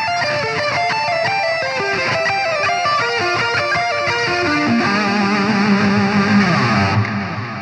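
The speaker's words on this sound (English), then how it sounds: "I wanted you all to hear what the neck pickup would sound like as far as like having some delay and reverb, just basic effects going on it" Electric guitar lead on an Auroratone Ultra-Violet neck pickup through Archetype Nolly with delay and reverb, a loud, continuous melodic line of sustained, smoothly gliding notes with echo tails before a sudden cutoff.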